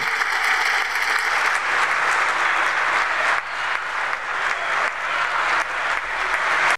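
Audience at Angola's state of the nation address applauds continuously, a loud, dense clapping from a large crowd that holds steady throughout without letting up.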